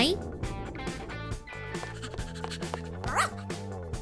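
A small fluffy dog gives short yips and barks beside its new bed, mixed in with a voice talking and a melodic background throughout.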